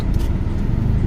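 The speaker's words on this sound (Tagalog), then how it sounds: "Traffic tol." A car idles and crawls in heavy road traffic, a low, steady rumble of engine and road noise heard from inside the vehicle, with no talking.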